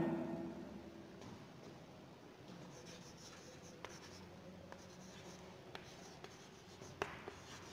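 A pen writes a sentence on paper, with soft, steady scratching strokes and a few faint taps across several seconds, fairly quiet and close, with no talking.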